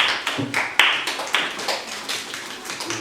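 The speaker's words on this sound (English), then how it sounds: "Now I want you to clap your hands for this fantastic place." Children clap their hands at a school Halloween gathering, irregular sharp claps in quick succession, fairly close and moderately loud, with little talk around them.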